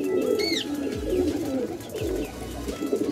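Pigeons cooing close by: a few soft, low, rolling coos repeating at about one-second intervals, with a brief higher chirp early on and faint background noise.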